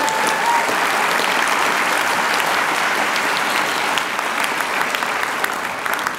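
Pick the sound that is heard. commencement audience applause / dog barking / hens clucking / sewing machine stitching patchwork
commencement audience applause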